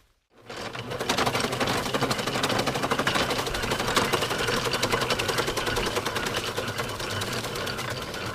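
An antique Appleton No.8 fodder chopper is hand-cranked through corn, starting after a brief silence with a fast, steady, rattling mechanical clatter that runs on continuously at close range.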